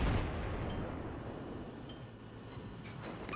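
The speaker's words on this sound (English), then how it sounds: "Now at least I can shoot at the Colorado" A heavy naval artillery boom from a T6 Aoba cruiser in the World of Warships video game, loud at the start and then decaying into a long rumbling tail.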